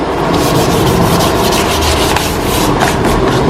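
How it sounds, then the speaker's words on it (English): Steady, close abrasive rubbing as a Harley Road King motorcycle gas tank is scuffed down with 320-grit before painting, a continuous loud scratchy sanding with no talking. "last final little scuffing, make sure everything's scuffed up and even"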